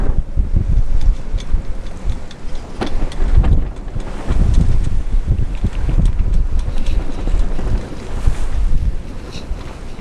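Strong wind on a sailing yacht out on the water roars loudly and continuously into the microphone. Heavy gusts and buffeting rumble throughout.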